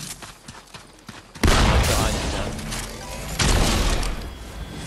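Gunfire in a video game, heavy booming bursts that swell into a loud, sustained roar after a quieter stretch with scattered thumps.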